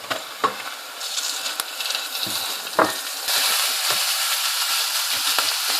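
Minced keema frying in a pan with onion and garlic gives a steady, close sizzle that grows louder partway through, with a few scrapes and stirring clacks along the way.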